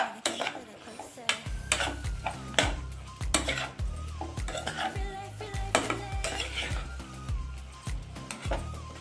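Chopped tomatoes tumble into an eggplant and tomato curry and get stirred, a spoon scraping and clanking against the metal pan in uneven repeated knocks, close and fairly loud, with a light sizzle beneath.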